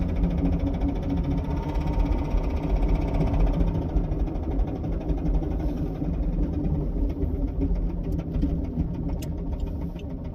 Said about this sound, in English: I know y'all can hear that motor knock.